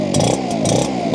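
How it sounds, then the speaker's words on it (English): An ECHO PB9010T two-stroke backpack leaf blower engine idles while warming up, a loud close buzzing drone with a steady throbbing pulse. "So we'll just let the engine warm up."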